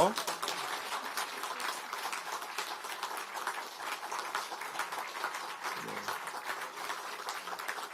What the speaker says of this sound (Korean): 의원님들 큰 박수로 함께 해주시고요